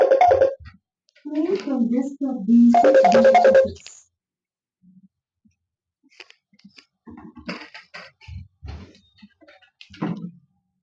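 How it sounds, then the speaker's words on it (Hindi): A mobile phone ringtone plays in a home during a math lesson, a melodic burst with a louder stretch near the start, followed by quieter speech and household sounds. "पीछे से मोबाइल"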